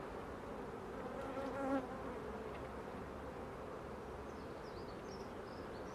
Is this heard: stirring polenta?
no